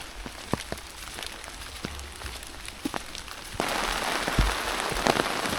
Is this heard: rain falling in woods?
yes